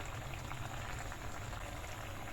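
Young jackfruit curry gravy simmers in a pot with a steady, dense bubbling that stays close and even throughout, with no voices.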